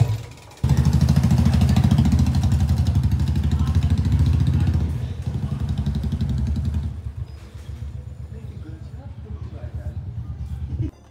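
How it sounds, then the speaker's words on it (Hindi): A Royal Enfield Bullet motorcycle's engine thumps close by in a steady low rumble that eases off partway through, with people talking over it. "अरे देख रहे हो भाई बुलेट।"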